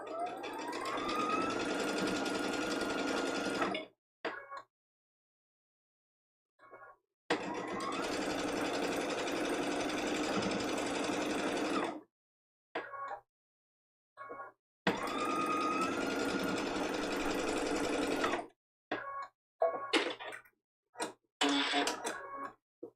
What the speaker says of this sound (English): on this first one, we're going to sew all the way.